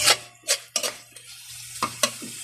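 Meat gets stirred in a hot pan with a metal utensil for a Filipino ginisang upo dish, a series of sharp scrapes and clinks at uneven intervals over a quiet sizzle.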